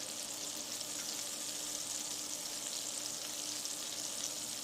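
Salmon and shrimp frying in garlic butter give a steady, even sizzle with a bright hiss that holds at a constant level throughout, with no voices.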